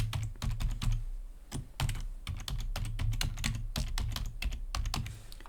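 Rapid, uneven keystrokes on a computer keyboard as an email address is typed, close and clear with brief pauses between clusters of taps.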